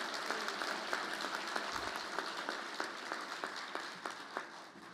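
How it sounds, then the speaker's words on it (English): Conference audience at a multi-conference opening in Costa Rica applauding an award winner, a steady spread of many hands clapping at a modest distance, with some louder individual claps standing out, unaccompanied by speech. "A round of applause for him as well."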